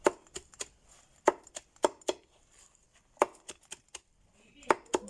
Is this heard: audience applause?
no